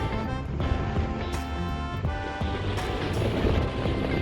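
Steady wind sweeps across Seilibost beach on the Isle of Harris, a constant loud rush with gusty swells and surf mixed in, no voices.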